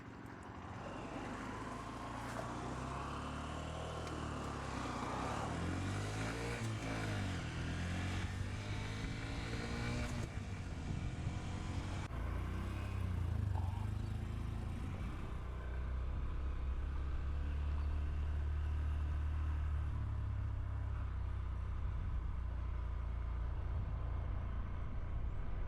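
A motorbike engine rumbles low and steady nearby, swelling and fading slightly over a broad wash of outdoor noise, with no talking.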